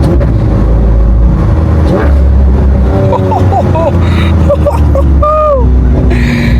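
Lamborghini Aventador LP-700 V12 engine revving loudly up close, with rising and falling pitch sweeps suggesting a downshift, amid steady road noise and people talking over it.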